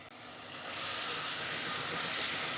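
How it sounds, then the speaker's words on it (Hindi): Ginger garlic paste fries in oil with green cardamom, cloves and cinnamon on a medium flame for a chicken tikka biryani, a loud, even, hissing sizzle that swells in within the first second and holds steady. "फ्लेम को मीडियम रखेंगे और अदरक लहसुन के पेस्ट को अच्छी तरह से भून लेंगे"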